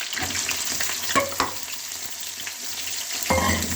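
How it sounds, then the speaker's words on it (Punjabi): Onions fry in hot oil in a pan for a sour cauliflower-stalk dish. The sizzle is close and steady, with a few sharp stirring scrapes and clacks and no voices. "ਆ ਦੇਖੋ ਪਿਆਜ਼ ਸਾਡੇ ਲਾਲ ਹੋ ਚੁੱਕੇ ਨੇ ਭੁੱਜ ਚੁੱਕੇ ਨੇ"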